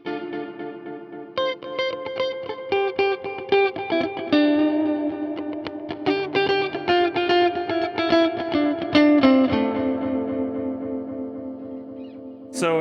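Electro-Harmonix Cathedral reverb pedal on its echo preset: plucked guitar notes repeat in trailing echoes that smear into a lush, ringing wash, played steadily for several seconds with no talking.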